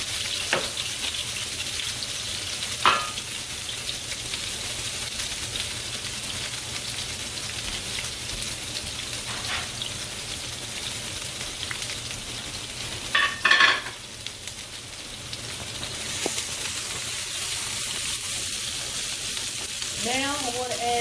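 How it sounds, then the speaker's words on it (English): Peppers and onions sautéing in a hot pan, a dense continuous sizzle like steady rain, with occasional utensil scrapes and clanks and a brief louder stir near the middle. "I'm going to saute my peppers and onions first."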